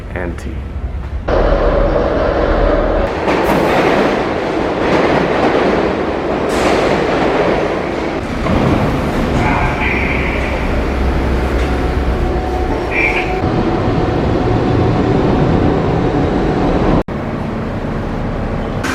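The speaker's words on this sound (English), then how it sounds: "this is what the subway train looks like at 5:30 during the crisis" A nearly empty New York City subway train running in Manhattan, a loud steady rumble and rattle with squealing tones and a sudden shift near the end, with voices at times.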